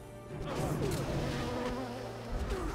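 A swarm of bees drones in World of Warcraft, a dense, steady buzzing that holds for a few seconds under a voice.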